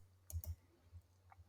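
Two quick computer mouse clicks near the start, then a few fainter ticks, all close and fairly quiet against a low hum.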